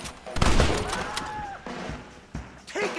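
A Red Dead Redemption shootout with several loud gunshots in quick succession, echoing cracks and thuds amid game noise, and a brief whistling whine between shots.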